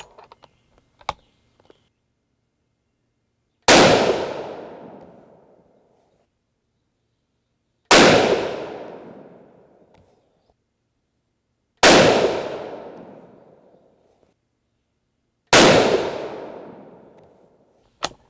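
A .243 Winchester rifle firing 85-grain Sierra GameKing loads with IMR 4451 powder lets off four loud, sharp shots spaced a few seconds apart outdoors. Each crack decays into a long fading echo, and faint clicks come first.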